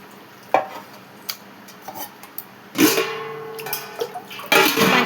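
Tamarind juice poured into a simmering fish curry in a kitchen pot, a splashy liquid pour with clinks and stirring of utensils against the pan, preceded by a few sharp taps.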